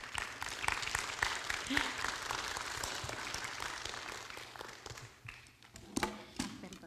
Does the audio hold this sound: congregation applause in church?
yes